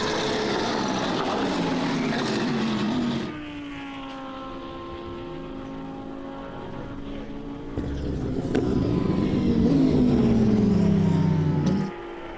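Touring cars racing hard at the BalatonPark endurance race, engines droning loudly with falling pitch as they brake into a corner, then a quieter stretch before another car's engine swells up close and cuts off.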